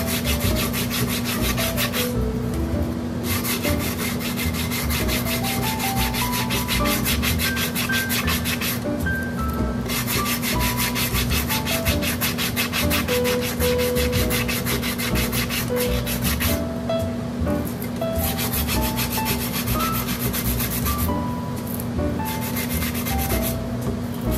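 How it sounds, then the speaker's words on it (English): Steady, continuous sanding across the epoxy-coated top of a beach tumbler, a rough, even rubbing scrape that holds at a constant level for the whole stretch, with no speech over it. "So we're just gonna sand the top."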